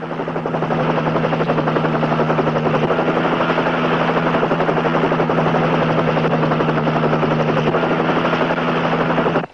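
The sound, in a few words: helicopter flying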